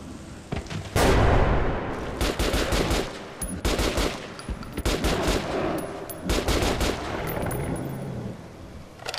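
Gunfire in the video game Metro Last Light: loud repeated bursts of automatic fire and sharp shots, several clusters spread over the stretch, heard close and alone without talk.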